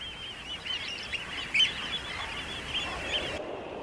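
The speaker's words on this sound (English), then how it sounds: "Eider ducks breed here in their hundreds." A flock of eider ducks at a breeding site calls in a continuous chorus of soft, crooning notes, with a crowd of overlapping voices at moderate distance.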